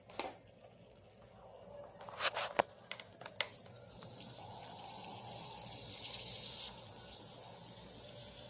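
Water runs from a leak after the supply is turned on, a faint, steady hiss and trickle that builds gradually, preceded by a few sharp clicks and taps.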